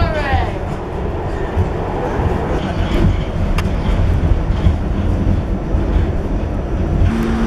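Steady loud rumble of a New York subway train in motion, wheels droning on the rails with occasional squeals, heard from inside a carriage.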